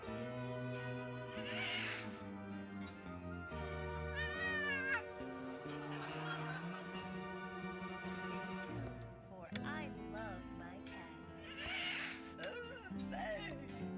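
Meowing from a cat on a TV show inside the Thimbleweed Park adventure game, several drawn-out cries rising over a steady musical backdrop, fairly loud and continuous.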